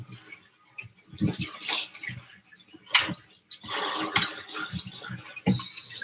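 Water poured over cooked food for a Salad Niçoise, irregular splashing and trickling bursts close by, fairly quiet with pauses between pours.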